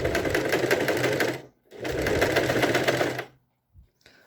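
Sewing machine stitching a fabric belt, two steady close runs of rapid needle clatter separated by a short stop, ending in silence with a faint knock.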